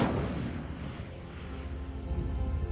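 Fiery spell effect cast in a Hogwarts Legacy wizard duel, a sustained low roaring whoosh with rumbling, booming texture lasting a few seconds, fairly loud and alone without voices.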